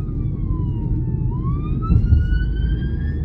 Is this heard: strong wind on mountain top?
no